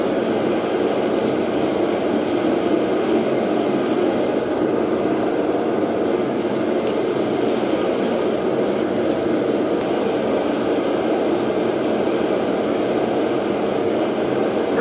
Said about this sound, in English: I got the forge cranked up, and I got just a piece of steel in there, round rod